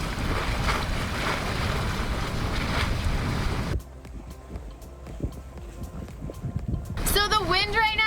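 Sailboat under sail with no engine running on the sea off California, moving at about six knots in nine-knot wind: strong wind and rushing water noise dominate, then fade to quieter hull splashes, with a person talking near the end.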